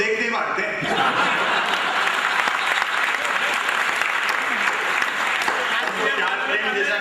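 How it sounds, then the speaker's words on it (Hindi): An audience at a Hindi satirical poetry program in Rajasthan breaks into sustained, dense applause, a loud wash of clapping from a large crowd that carries on steadily from start to finish. "तालियां आपकी अब चाहिए"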